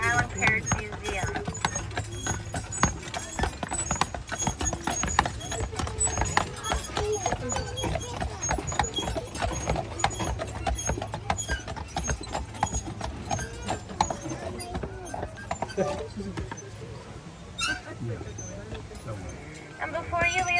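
Steady clip-clop of horse hooves pulling a carriage on Mackinac Island, a continuous rhythmic patter near and clear beneath a guide's ongoing narration, with faint jingling harness.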